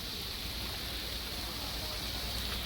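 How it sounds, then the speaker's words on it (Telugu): Heavy rain falls steadily on a houseboat on the Pamba River in Kerala, forming a dense, even hiss close by with no letup and no voices. "ఎండ్ పాయింట్కి మొత్తం పెద్ద వర్షం అండి."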